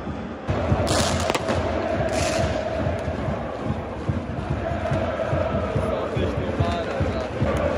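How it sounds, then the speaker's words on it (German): Pyrotechnic rockets go off in a packed football stadium during a Hamburg derby, with sharp bangs early on over a constant roaring crowd and chanting that fill the whole stretch. "Wir werden direkt Raketen neben uns geschossen."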